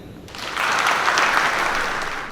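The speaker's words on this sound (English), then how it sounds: "thank you for applauding before I finish my speech" Applause from an audience at a reunion symposium, a dense steady clatter of many hands that swells in after a quiet start and carries on evenly without a break.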